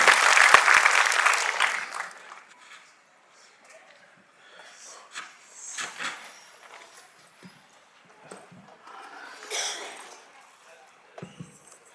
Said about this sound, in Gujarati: કિરણસિંહજી રાઠોડને આપણે બધા ખૂબ જોરદાર તાળીઓથી સ્વાગત કરીશું